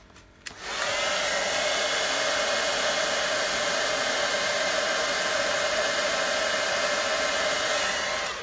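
A heat tool blasts hot air over ink on a watercolor card, starting with a brief click and then holding a loud, steady blowing whir close by for about eight seconds, with no talking.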